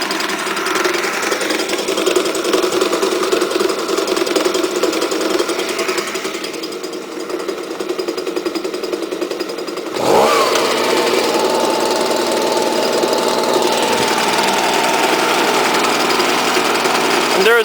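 Stihl BG55 and BG86 handheld leaf blowers run together close by, a loud, steady, buzzing two-stroke whine that dips briefly and then surges back harder partway through.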